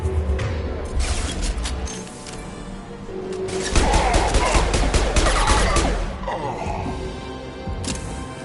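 Dense video-game gunfire from Mass Effect 2 on Insanity difficulty, a sustained barrage of overlapping shots with a louder, heavier burst in the middle, alongside a voice.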